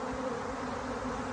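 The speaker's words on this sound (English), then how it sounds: "A lot of bees in the air too, as you can see." Loud, unbroken buzzing from a large swarm of bees massed around a weighted-down box, a close, even drone with no talking.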